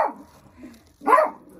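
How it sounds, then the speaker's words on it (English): A dog barks at its own reflection in a truck, two short barks, the first fainter and the second louder and nearer, with quiet gaps between them. "What is Boo Boo barking at?"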